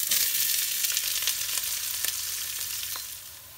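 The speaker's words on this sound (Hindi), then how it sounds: "प्याज जो है हमेशा गर्म तेल में डाला करें, वो जल्दी फिर ब्राउन हो जाते हैं।" Loud, close sizzling of onions frying in hot oil, a steady crackling hiss with occasional pops that eases slightly toward the end.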